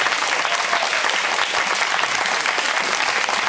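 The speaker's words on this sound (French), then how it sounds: "On peut l'applaudir très très fort." A holiday village audience at a stage hypnosis show claps loudly and steadily for a participant, a dense, close crowd applause sustained throughout with no pause.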